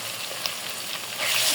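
Ginger and garlic paste frying lightly in a pan, a close, even sizzle that swells louder in the final moments, with no talk.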